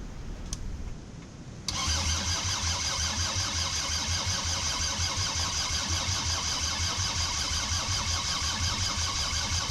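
A Mercedes T1 310D diesel engine, glow plugs disconnected, cranks over after a quiet start, a fast rhythmic churning drone that runs steady and loud to the end.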